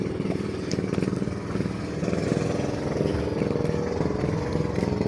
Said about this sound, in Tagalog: maganda na siyang tumakbo kahit maliit yung kanyang makina